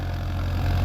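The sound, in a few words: Farmtrac 50 EPI tractor running an 11-tine tiller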